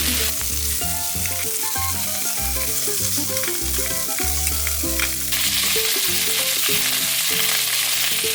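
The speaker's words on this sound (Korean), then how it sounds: "기름을 두르고 생선을 살짝 구워줄 겁니다." Spanish mackerel sizzles loudly in hot oil in a pan, a dense continuous crackle that holds steady and grows slightly brighter toward the end, with no talking.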